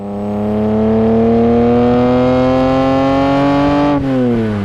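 A Ferrari Testarossa 512M engine revs loud and close, its smooth tone climbing steadily for about four seconds before the throttle lifts and the pitch drops.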